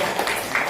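Brief, steady applause from a crowd of teachers at a school presentation, a dense wash of clapping at moderate volume with no voices standing out.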